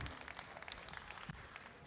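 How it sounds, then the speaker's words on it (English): Applause from a show-ring audience after the Ayrshire cattle grand champion judging at Madison, a steady wash of many hands clapping throughout, moderately distant and not very loud. "Let's have another round of applause for our winners"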